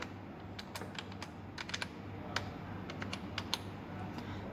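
Keys clatter on a computer keyboard as a short file name is typed, a quick irregular run of close, light clicks over a quiet room hum, with no speech.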